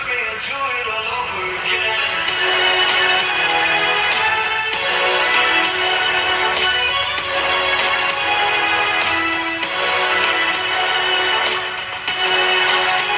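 Music plays loud and full through the built-in speakers of an Asus Vivobook 13 Slate OLED at volume 100, a steady dense mix with a bright top end and no speech over it.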